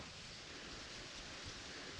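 Wind blows steadily across a microphone at a lakeside fishing spot, a faint, continuous broadband rush with slight gusty swells and no voices.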